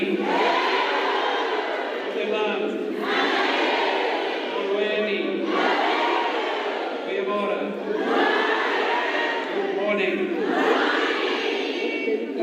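A large crowd at a political rally announcing a mayoral candidate for Ekurhuleni roars with cheering, shouting and applause, a continuous loud wash of voices that swells and dips in waves.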